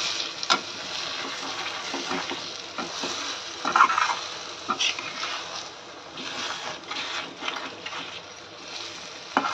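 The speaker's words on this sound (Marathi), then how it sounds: "अंडी आपण याच्यात फोडून घेतली, ती व्यवस्थित मिक्स करून घेऊया. या प्रोसेसला मी थोडासा गॅस फास्ट करते, म्हणजे आपली अंडी पटकन होईल." Beaten eggs for egg bhurji, cooked with onion and tomato, are stirred in a pan over a high gas flame, giving a steady sizzle with irregular scraping and stirring knocks throughout, no talking.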